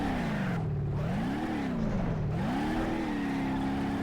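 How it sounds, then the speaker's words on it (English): In the BeamNG.drive driving game, a car engine revs hard and drones loudly while its tires burn rubber, the pitch rising and falling in two surges over a constant roar. "It burns rubber, but I don't think it is the limited slip to the burnouts yet."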